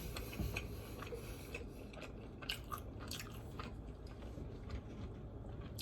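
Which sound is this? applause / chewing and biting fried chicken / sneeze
chewing and biting fried chicken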